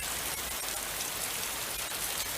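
Steady rain falls outdoors at night, a dense even hiss of drops with occasional louder patters on nearby surfaces, continuous and unbroken with no voices.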